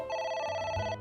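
A phone trills in the game AI: The Somnium Files. One short, loud, bright electronic ring sounds alone and close and cuts off after about a second.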